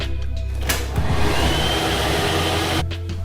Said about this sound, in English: It's a hairdryer, I think.